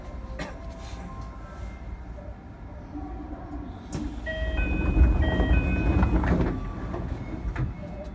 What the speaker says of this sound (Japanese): 閉まるドアにご注意ください。